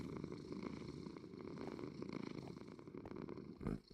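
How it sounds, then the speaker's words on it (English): A cat purrs in the video game Minecraft, a close, continuous low rumbling purr with steady rhythmic pulses, ending in a brief louder burst. "Good kitty."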